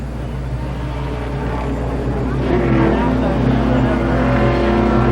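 4-cylinder ARCA Pro 4 race cars at Columbus Motor Speedway drone with steady engine noise that builds as the cars draw nearer, under continuous race commentary.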